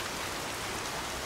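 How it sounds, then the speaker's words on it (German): Steady in-game rain in Horizon Zero Dawn, a dense, even wash of falling rain with no breaks and no talk over it. "jetzt regnet"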